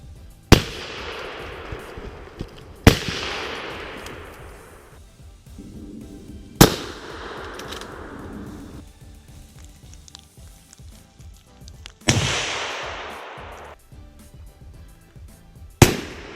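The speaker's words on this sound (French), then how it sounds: "je vais vous montrer réellement des images sans la blague du bruit que fait réellement la carabine avec le modérateur de son" Hunting rifle fitted with a sound suppressor, fired five times at irregular intervals outdoors during a driven hunt, each shot a sharp crack followed by a fading rolling echo, with no talking.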